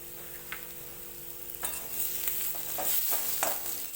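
Onions frying in a pan for a paneer curry, a soft steady sizzle broken by several short scraping stirs of a spatula, close and fairly quiet, with no talking.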